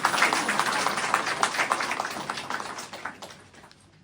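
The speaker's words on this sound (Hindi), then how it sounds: "इनके लिए सभी ताली बजाएंगे।" An audience claps together in a hall, dense applause at full strength that gradually thins and fades out over several seconds.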